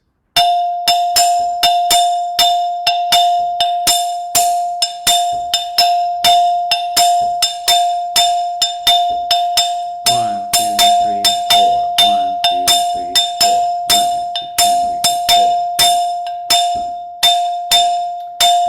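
A bright bell-like Latin percussion instrument taps out a repeating five-note cinquillo rhythm, steady and loud, cycling over and over with no talking.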